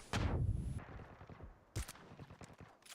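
Gunfire in the mobile game New State Mobile crackles in a few sharp bursts, a heavy volley opening and quicker shots following, loud and close.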